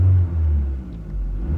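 A Saturn SC2 car engine rumbles steadily, low and close, with a slight swell as it is revved, and the service engine soon light is on.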